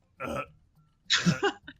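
Two short, throaty burps a moment apart, the second longer and more drawn out, close and fairly loud with nothing else around them.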